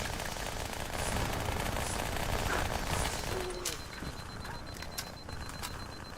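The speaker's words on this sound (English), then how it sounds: "The SMG in this game feels so good." Rapid SMG fire from the video game Halo 2 rattles in an online multiplayer match, dense bursts under a busy wash of game noise with a few louder crisp reports toward the end.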